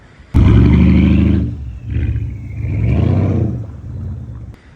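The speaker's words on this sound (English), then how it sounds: "I'll put a clip of me like when I had that car, just revving it" A loud car engine with no mufflers or resonators revs hard in sharp bursts, a deep roaring blip followed by two more sustained rises and falls, close and raw.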